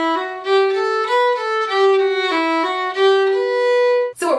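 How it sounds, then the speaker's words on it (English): A fiddle plays a lively variation of a traditional Irish march alone, notes bowed smoothly in steady rhythm with a few quick ornaments, ending with a short noisy scrape. "we're going to start out this time with a melodic variation"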